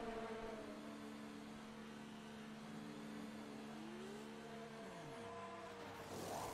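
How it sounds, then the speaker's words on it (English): An F1 2019 race car in a video game brakes hard and drifts into the pit lane as the engine's whine falls in pitch against a dense, steady drone of engine and tyre noise. "You just have to drift literally the car into the pits."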